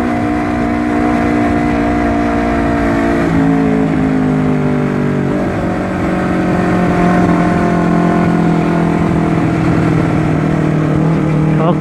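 Honda CBR250RR motorcycle engine held at high revs, a loud continuous near roar with rising and shifting tones through the run on a dark road, no talking.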